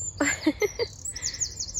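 Small birds at a bird feeder on an allotment give a quick run of high, bright chirps and tweets, close and clear, with a faint trilling call trailing off afterward.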